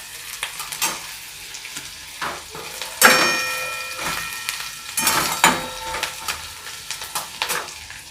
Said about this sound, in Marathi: कांदा असा छान गोल्डन ब्राऊन होऊन द्यायचा आहे।